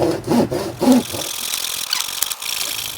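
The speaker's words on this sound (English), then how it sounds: "now let's get that sawn and take a look at it." A hand saw cuts through a wooden axe haft in short, close rasping strokes, loud and dry, with no talking.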